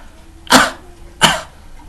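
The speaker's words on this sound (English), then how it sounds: "that's a barking cough." Two harsh, barking coughs, loud and close, about three-quarters of a second apart, with quiet between them.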